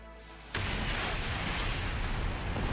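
Heavy missile impacts slam into the player's rig in a sci-fi video game, a sudden loud blast followed by sustained rumbling roar and crackling debris that stays dense and close to the end.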